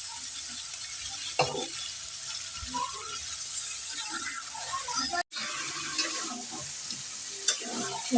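Beef being stirred with spices in a cooking pan for an Eid meal: a spoon repeatedly scrapes and knocks against the pan over a steady low sizzle, with a brief dropout partway through and no talking.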